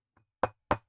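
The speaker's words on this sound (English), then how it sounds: "Somebody knocks on your door." Two firm, loud knocks on a door about a quarter second apart, preceded by a faint tap, with silence around them.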